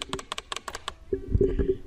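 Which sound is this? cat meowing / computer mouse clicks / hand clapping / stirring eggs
computer mouse clicks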